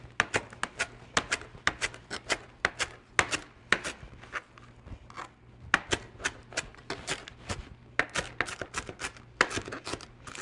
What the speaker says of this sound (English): I'm going to chop up all of the cilantro